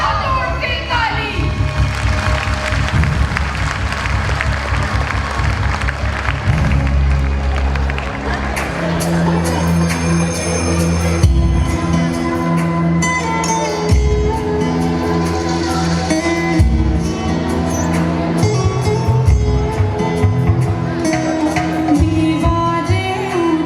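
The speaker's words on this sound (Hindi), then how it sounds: "काली बाई की वीरता पर बजा जोर से ताली।" An audience at a school annual function claps loudly, a sustained patter of many hands mixed with crowd noise and music-like tones, with voices over it.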